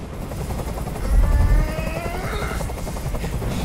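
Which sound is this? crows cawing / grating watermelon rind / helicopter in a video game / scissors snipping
helicopter in a video game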